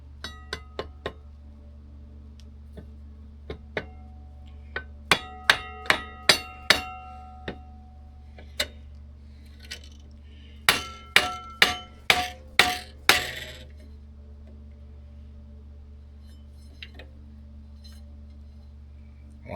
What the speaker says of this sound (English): Need a soft hammer to tap on that helix.